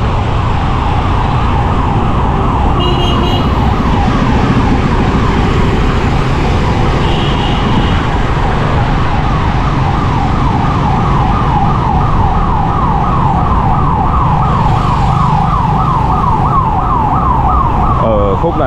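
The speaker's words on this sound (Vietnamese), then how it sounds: "xe cấp cứu ở phía sau của chúng ta đó." An ambulance siren wails continuously in a loud, fast rising-and-falling pattern, passing close along a busy city street in Saigon over a dense rumble of traffic.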